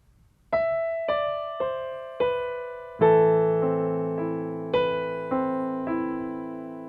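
A piano plays single notes at first, then fuller chords with low left-hand bass notes joining in, struck at an even, unhurried pace with each note ringing out.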